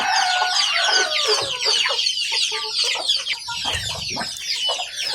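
Pet chickens clucking and cackling in a coop, a dense, busy chorus of overlapping bird calls, close and loud throughout, with no talking.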